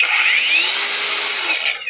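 Cordless angle grinder powered by a Makita-compatible 10Ah DIY battery pack whines steadily at speed, loud and close, with its pitch rising as it spins up and dipping slightly near the end.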